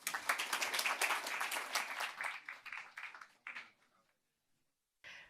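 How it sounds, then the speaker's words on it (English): Dense audience applause after a speaker is introduced at an Adobe tech talk, many hands clapping loudly, then tapering off into scattered claps and silence before a voice briefly begins. "Please give a huge round of applause."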